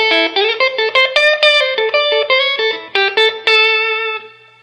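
A clean Stratocaster electric guitar through a Quilter Aviator Cub amp plays a quick run of plucked notes and chords, bright and ringing, ending on a sustained note that fades out.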